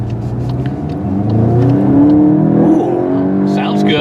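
A 2023 VW Golf GTI accelerates on the highway in sport mode, its engine note rising loud and close from inside the car with a sharp shift near the end, while someone talks over it.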